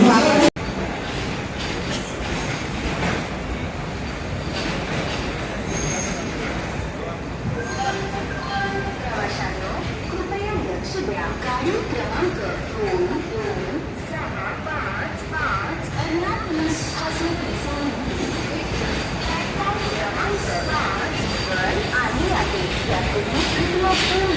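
Steady, continuous rumble and rattle of a train rolling along the rails, with faint clatter throughout and no pauses; a CSMT–Madgaon Holi special train near Panvel, India.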